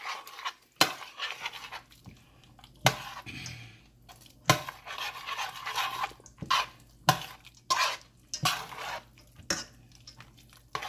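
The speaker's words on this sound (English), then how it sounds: "And I'll mix that all up." Food is stirred and mixed in a pot while cooking Guyanese salmon with yellow rice. A utensil clinks and scrapes against the pot in a repeated, irregular rhythm at close range, fairly quiet, with no talking.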